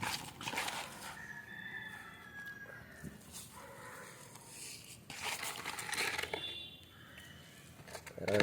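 Country hens and roosters cluck and call in a farmyard at feeding time, with bird calls and scattered rustling over a continuous busy background.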